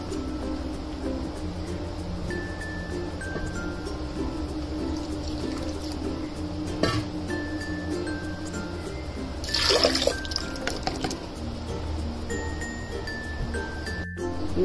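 Water pours into a cooking pot holding soaked tur and masoor lentils for a daal gosht, a steady liquid trickle with a brief louder splash near the middle, and no voices.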